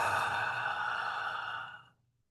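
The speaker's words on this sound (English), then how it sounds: "and breathe in" A single slow breath drawn during a basic breathing exercise, smooth and close, fading out after about two seconds with no talking.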